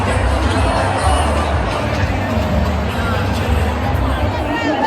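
A large, dense crowd fills a Navratri garba night at NESCO in Mumbai, with a steady loud hubbub of many voices and some scattered cheers running without a break.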